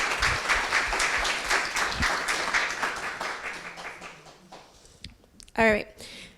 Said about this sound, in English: please, a round of applause for just everything I've said